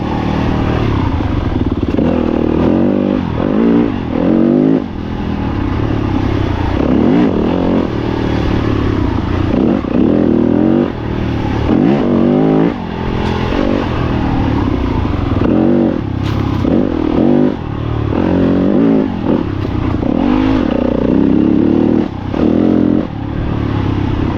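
Dirt bike ridden hard along a two-way wooded trail at Cedar Creek in Michigan, engine loud and close throughout with repeated revving surges, gear changes and rattling clatter over rough ground.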